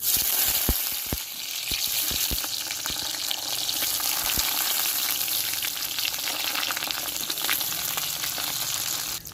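Food fries in mustard oil in a kadai, a dense close sizzle with a few sharp spattering pops early on, then an even steady crackle throughout with no talking.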